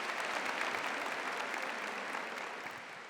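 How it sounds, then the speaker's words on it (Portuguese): Church audience at a parish gathering giving a sustained round of applause, dense and even clapping that fades slightly toward the end. "Uma salva de palmas para quem já está em missão."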